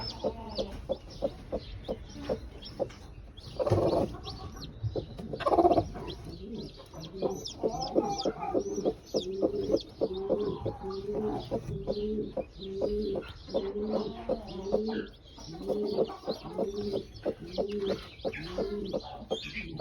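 A Gürk hen with newly hatched chicks gives a long run of soft, repeated low clucks at a steady rhythm, close by, with a few louder bursts and some cooing mixed in.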